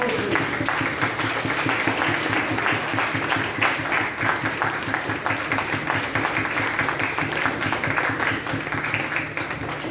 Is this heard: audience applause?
yes